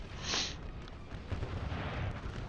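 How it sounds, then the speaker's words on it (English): Artillery fire in the Total War: Napoleon video game, American Civil War mod, sounds as a low, rumbling barrage of distant booms. A sharper crack stands out near the start, over continuous battlefield noise. "Artillery rounds are coming in."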